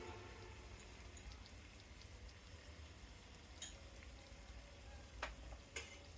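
Prawns sizzle steadily in a pan with ginger-garlic paste already fried down for a prawn biryani, a faint, continuous crackle with a few sharper spits toward the end and no talking.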